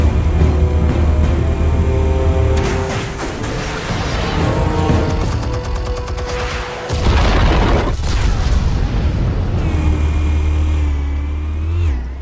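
A loud explosion in the video game Batman: The Telltale Series, a deep boom bursting out over a sustained roaring engine-like rumble and a mix of game sound effects, with a heavy low thud near the middle.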